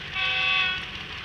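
Pakistan Railway GU40 diesel locomotive hauling the Shalimar Express, heard as a loud, steady multi-tone horn blast lasting about a second over a rumbling engine.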